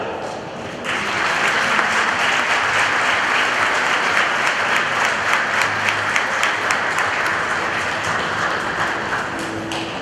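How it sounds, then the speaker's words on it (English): Sustained crowd applause for senior athletes at a school sports recognition, steady clapping filling about ten seconds after a brief quieter start, dense and fairly close. "Let's give one more big round of applause for all of our senior athletes."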